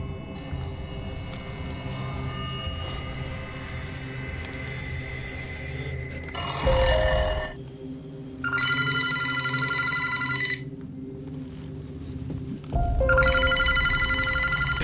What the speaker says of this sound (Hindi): इस फार्म हाउस में दाखिल होते ही वहां पर मौजूद एक लैंडलाइन फोन बगैर किसी कनेक्शन के बजना शुरू हो गया।